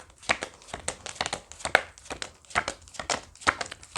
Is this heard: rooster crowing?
no